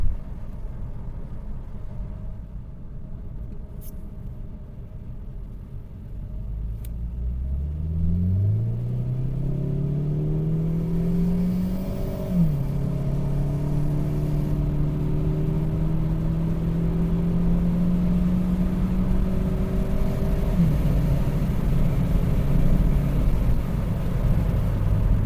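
Saab 9-5 Aero with a stage 1 tune, catback exhaust and open air filter, shifted into sport mode, accelerating hard: a steady low engine rumble that climbs in pitch through gears with a shift dip, heard alone and fairly close.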